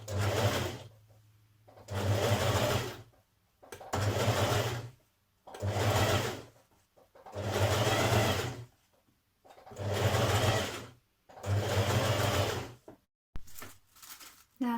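Sewing machine stitching a side front panel to a front centre dress panel with a 1.5 centimetre seam allowance, steady whirring bursts of a couple of seconds each with short pauses between, close and loud.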